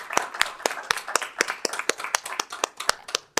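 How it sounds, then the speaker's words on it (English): An audience at a school board public meeting claps in a brief burst of separate, sharp claps at a quick, uneven rhythm. The claps sound moderately close. "we'll clap for the communications team that put that video together"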